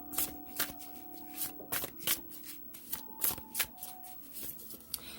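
Love-reading cards are shuffled by hand nearby in quick, crisp riffles and snaps that come in irregular bursts, quiet between strokes.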